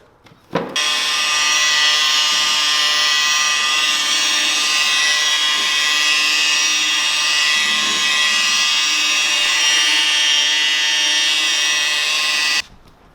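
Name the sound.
Dewalt DCM849B cordless rotary polisher running on paint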